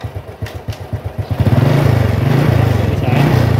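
A Honda motorcycle engine being repaired chugs in a quick pulsing idle, then the throttle opens and it rises into a loud, sustained rev that holds steady at close range.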